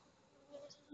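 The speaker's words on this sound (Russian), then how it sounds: "летают перед лицом две пчелки" Honey bees buzz briefly near a beehive, a faint, soft drone from insects flying close by, heard alone with no voices.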